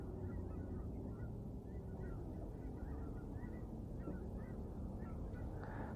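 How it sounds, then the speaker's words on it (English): Faint, scattered goose honks repeat over a steady low rumble, distant and soft throughout. "Flock of geese flying by."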